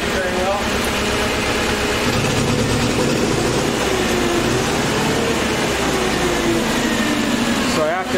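A Nissan H20 engine on a TCM FG25N2S forklift runs rough and loads up, a loud, steady, close droning rumble with a wavering pitch and a slight hunting quality throughout.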